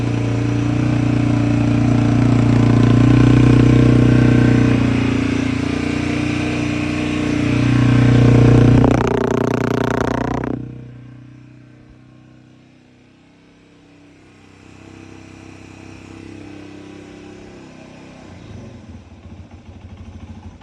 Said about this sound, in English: You can hear what a cold start sounds like on an XT225.